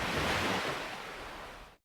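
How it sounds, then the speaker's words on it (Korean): An AI-generated ocean sound effect gives waves washing onto a beach as one broad, loud surge of surf that fades away and cuts to silence after under two seconds. "Sound of Waves on the Beach"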